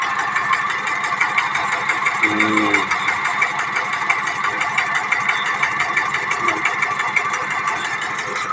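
Engine of a small newly built Thai farm vehicle (rot e-taen) running on a shop floor, a steady close rhythmic chugging idle with a brief low rumble partway through and faint talk in the background.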